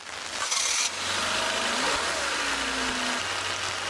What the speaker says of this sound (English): And now we've got a nice running Honda.